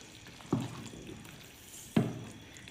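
Pakoras being stirred into kadhi in a pot over a low flame: two distinct scraping stirs with a soft sizzle in between, close and fairly quiet, with no voices.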